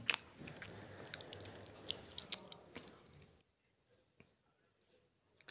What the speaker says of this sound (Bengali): হাজবেন্ড খাচ্ছে দেখুন